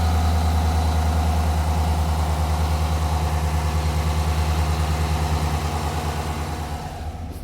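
Engine running with the cylinder 6 injector removed, a loud steady low idle with a fast rhythmic pulsing throughout that eases toward the end.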